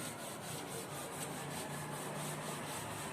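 Writing is rubbed off a board with a duster in a classroom, giving a continuous close scraping, brushing friction sound with no talk.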